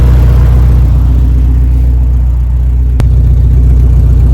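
A Honda Civic EK hatchback's B-series VTEC engine fitted with big injectors runs steadily, a loud, continuous mid-pitched engine drone with no talking over it.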